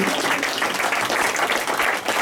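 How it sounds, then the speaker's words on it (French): Audience applause at an amateur singing workshop show, dense continuous clapping from a crowd, fairly loud and steady throughout the short stretch. "France, on l'applaudit"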